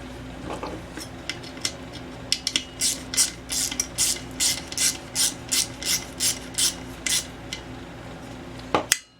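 A ratchet tightens a 3/8 bolt on an Ex-cell VR2500-1 pressure washer in a rhythmic run of about a dozen sharp, close metallic clicks, with a few scattered taps before and a low steady hum underneath.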